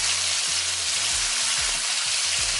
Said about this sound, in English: Now I'm gonna allow it to fry for an additional 3 minutes on the other side.